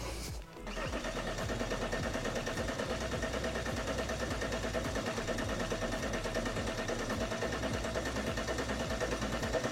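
An Alfa Romeo 159 engine runs steadily at idle while power steering fluid circulates, giving a close, even, fast mechanical ticking hum throughout with no talk.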